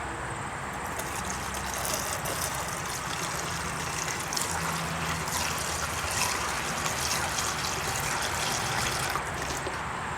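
Washer fluid pours steadily into the windshield washer reservoir of a 2002 Mitsubishi Lancer, a continuous close trickle and splash of liquid running the full length without a break.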